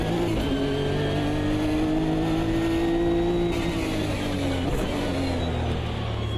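BMW race car engine in the sim racing game AMS2 (Automobilista 2) on a wet track, a loud, steady high-revving drone that holds its pitch and then shifts down near the end, with no talk over it.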